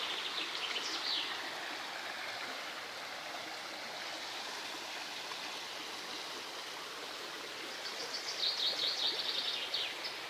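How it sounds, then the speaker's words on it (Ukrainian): A river in Lumshory flows with a constant, even rushing and splashing of water. Faint bird chirps rise above it near the start and again toward the end. "Вот ми тут вирішили покупатись в річці."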